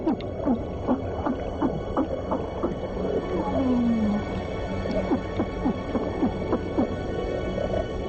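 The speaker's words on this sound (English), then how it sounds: "Even this little porcupine fish bleats around." Underwater soundscape full of crackling and scattered clicks, with repeated short low bleating grunts from a small fish and a longer rising call midway.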